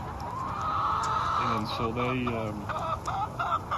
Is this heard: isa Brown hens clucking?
yes